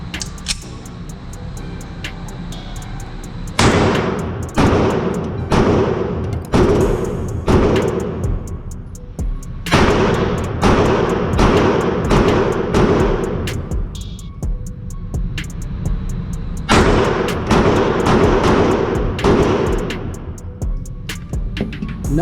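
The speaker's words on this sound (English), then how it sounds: "Gonna shoot these real quick and then maybe run some other ones." Glock 43X pistol fired at a shooting range: bursts of sharp, loud shots in quick succession, several groups of rapid cracks separated by short pauses over steady background noise.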